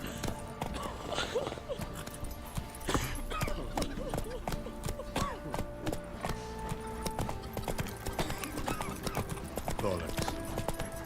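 A horse in The Witcher 3 video game trots and gallops in steady clip-clop hoofbeats over game music, with some chatter mixed in.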